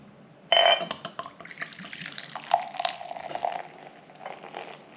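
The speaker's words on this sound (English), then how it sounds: "I'm going to put 1/2 pint of this beer into my jug" Scottish champion beer pours into a jug, a sudden splashing gush followed by bubbling, trickling liquid that rises and falls in short bursts before fading.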